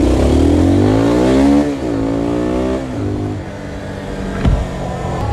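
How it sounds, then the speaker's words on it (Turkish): Subaru BRZ engine revving as it drives past on a city street, pitch sweeping upward through gear changes and fading, with a sharp thump near the end. "Bu bir BRZ sanırım."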